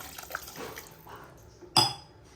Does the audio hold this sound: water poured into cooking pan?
yes